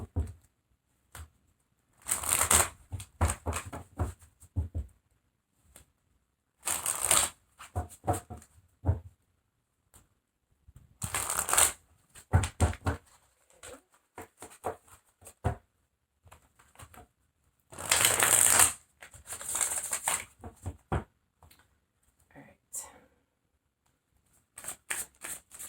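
Tarot cards shuffled in repeated bursts of riffling and flicking, close by, separated by quiet pauses over roughly half a minute.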